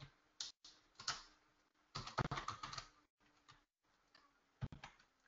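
Keys clatter on a computer keyboard in quick bursts of typing, separated by short pauses, close and fairly quiet.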